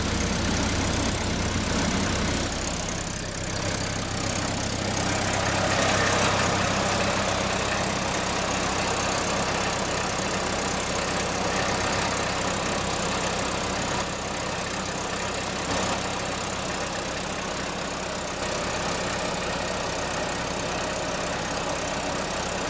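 A vintage 1945 antique refrigeration reefer cooler runs its engine with a steady, loud, rumbling drone and faint knocking, unchanging throughout and with no talk.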